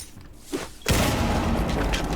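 An explosion in Rainbow Six Siege X: a sudden loud blast after a quieter moment, followed by a sustained roaring, crackling wash of debris that stays loud to the end.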